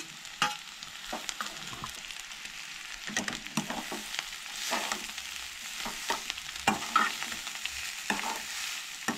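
Stuffed brinjals for a spicy Goan curry frying in a pan, with a soft sizzle under repeated scraping and clattering stirs in an irregular rhythm, close and fairly quiet, no talking.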